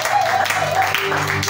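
An audience claps in a church during an evening sermon on Psalm 23, the applause steady and fairly loud over sustained musical tones and a faint voice.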